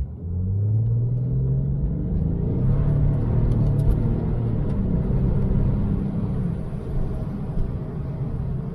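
A car pulls away hard from a standstill on winter tires in below-zero weather, its traction control off, in first gear, with a deep, loud rumbling engine note building steadily as it accelerates, and no one speaking.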